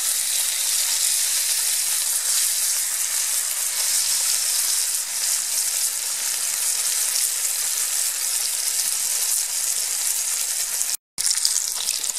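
Beef slices searing in a hot pan for Zwiebelrostbraten, a steady dense sizzle and crackle close by that runs unbroken, with one brief dropout near the end.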